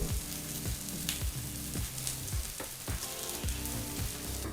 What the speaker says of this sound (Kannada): ಈಗ ಇಲ್ಲಿ ಪಡ್ಡು ಚೆನ್ನಾಗಿ ಡೀಪ್ ಫ್ರೈ ಆಗಿದೆ